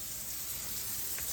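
Hot water running from the tap of a Furrion tankless water heater in a converted Prevost H3-45 bus, a steady hissing rush that holds at one level throughout.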